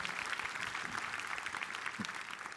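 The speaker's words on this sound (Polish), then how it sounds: "Wielkie brawa." A crowd at a Polish public debate on defending European values, just after cheers for Europe and Belarus, claps in a steady, thick, continuous burst throughout, fairly close and with no voices over it.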